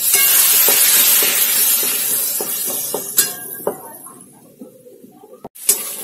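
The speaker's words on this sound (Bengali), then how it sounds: "আবার একটুখানি সামান্য জল দিয়ে কষাবো।" Spices with salt and turmeric sizzle in a pan as they are sautéed with a splash of water while cooking tengra fish, a steady close hiss that fades toward the end, with a few clinks of a stirring spoon.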